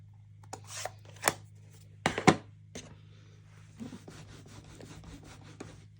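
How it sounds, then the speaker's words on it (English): A rubber stamp scrubbed across a stamp scrubber pad at a papercraft desk, giving several sharp rubbing strokes and brushy scrapes, close and fairly quiet, with no talk. "this is our stamp scrubber, and you just take the stamp, you scrub it, and then it dries on the other side"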